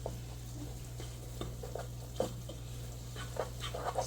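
Pepper is stirred into gravy in a pot with soft, irregular scrapes and light taps of a spoon, faint over a low steady hum.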